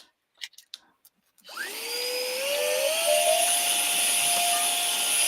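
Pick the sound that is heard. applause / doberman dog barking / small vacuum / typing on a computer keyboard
small vacuum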